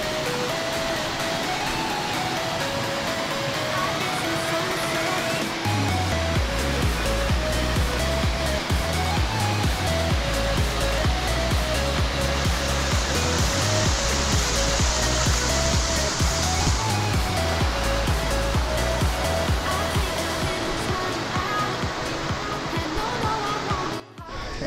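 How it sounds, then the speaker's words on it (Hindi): A small mountain waterfall on the Valley of Flowers and Hemkund Sahib trek in Uttarakhand makes a constant rushing hiss of falling water for over twenty seconds, with tonal music running underneath. "भाई छोटा सा वाटरफॉल दिखा रहा है, पानी भर लेते हैं"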